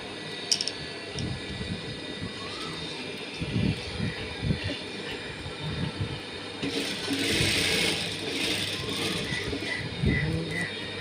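A sewing machine stitches fabric in bursts, with a steady mechanical whir rising louder toward the end and soft handling noises between runs.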